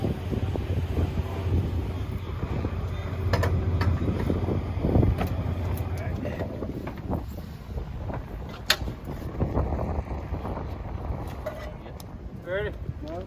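Strong headwind buffeting the microphone during a Harley test run, a continuous low roaring rush with gusts, heard under people talking.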